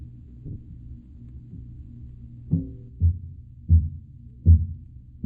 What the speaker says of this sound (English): By pounding on them with those heavy sticks, the witch doctor sends out his message